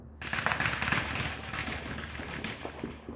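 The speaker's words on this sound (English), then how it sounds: "small fireworks that don't go up in the sky" Small ground fireworks crackle in a rapid, steady string of pops for about three seconds, moderately distant on a Fourth of July night.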